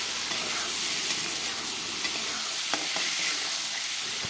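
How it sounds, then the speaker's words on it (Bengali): Potato pieces fry in hot oil until reddened, a steady close sizzle broken by a few soft clicks of stirring. "এখানে আলুগুলো লাল করে ভাজা হয়ে গেল"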